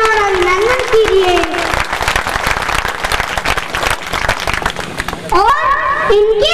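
A religious gathering's audience applauds loudly to welcome a revered woman spiritual leader, a dense burst of clapping lasting several seconds, with a voice speaking over the start and end.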